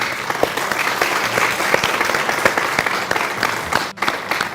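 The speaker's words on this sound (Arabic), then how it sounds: "تصفيقة ثانية" Sustained audience applause at an Egyptian Quran recitation competition, dense clapping filling the room from start to finish with a brief dip near the end, no talking over it.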